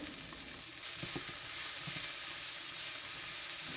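Carrots, potatoes, beans and green peas sautéing in a pan for vegetable pulao, a continuous dense frying hiss with soft scraping stirs near the start, close and without talking.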